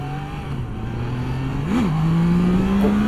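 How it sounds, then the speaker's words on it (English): Triumph Tiger 660 motorcycle engine revving up under acceleration, a steady close drone that rises sharply in pitch around the middle and then holds a higher, louder note, with no talking. "Wheel just comes up, you just barely pop the clutch."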